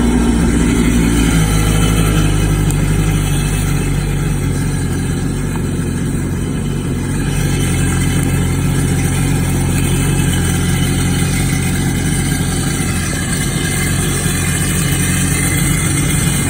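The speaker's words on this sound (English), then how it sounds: "I'm going to start up the engine" An engine, apparently a boat or marine engine being flushed with rinse water, starts and settles into a loud, steady running drone with a constant low hum throughout.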